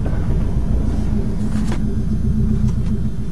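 A Subaru engine idling just after a cold start, a loud, close, steady low rumble with a rough, even drone and no revving or talking.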